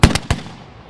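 A close, loud historical musket volley fired on command at a military tradition event: a ragged burst of three sharp cracks within a fraction of a second, followed by a fading rumble.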